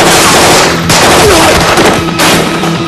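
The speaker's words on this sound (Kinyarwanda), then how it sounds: "barwaniye imbunda na Lion birangira arashe" Loud, rapid bursts of gunfire fill the whole stretch, dense and continuous like a movie battle scene, with booming low rumble underneath.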